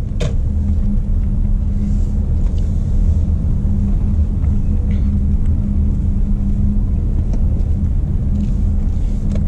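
Audi A8L with a 3.0L diesel engine driving on the road, a steady low cabin rumble of engine and tyre noise with no talk.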